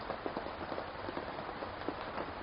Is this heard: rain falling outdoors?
yes